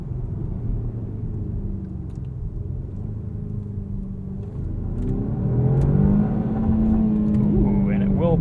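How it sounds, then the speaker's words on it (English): A 2021 Jaguar XF P300 R-Dynamic AWD SE in dynamic mode drones from inside the cabin, its engine note climbing as the car accelerates, with someone talking over it. "This XF makes a little bit more noise in dynamic mode."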